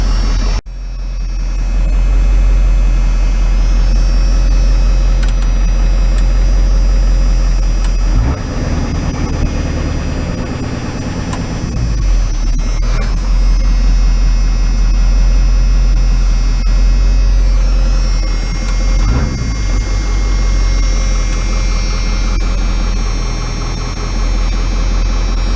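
An OBS Ford Powerstroke diesel engine idles roughly after a cam sensor replacement, with a loud, continuous low drone and hum and a few uneven surges, close by and with no talking.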